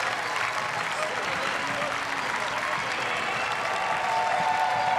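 A crowd cheers and applauds continuously as triathletes finish down the blue carpet at the European Championships in Munich, a dense, steady roar of clapping and voices.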